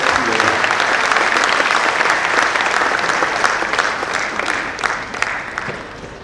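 Dense audience applause at a live spoken Hindi devotional talk, loud and continuous from the start and tapering slightly toward the end, with no talk over it.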